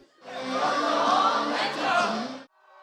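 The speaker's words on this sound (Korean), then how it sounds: "오랜만에 함께 호흡하고 함성을 외치자 저절로 웃음이 터집니다." More than three hundred students at a school festival let out one sustained, loud cheering shout together, swelling for about two seconds before cutting off abruptly.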